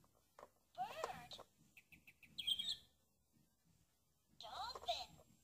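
A Fisher-Price Puppy's Animal Friends musical book from 2010 plays electronic bird chirps, bursts of tweets separated by pauses, with a small tinny voice sounding between them.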